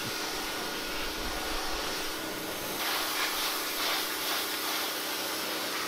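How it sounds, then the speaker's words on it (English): An electric pressure washer pump runs with a steady hissing, rushing drone whose tone shifts slightly partway through as the load changes. No other sounds are present. "you can hear the pump load increase once the air is gone and feel more power in the wand"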